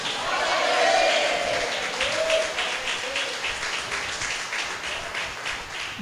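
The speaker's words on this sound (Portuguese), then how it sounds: "Aplauda Jesus e dá um glória a Deus bem forte aí." Church congregation applauds during a Portuguese-language sermon, a sustained wash of clapping that swells early then continues steadily, with some voices audible underneath.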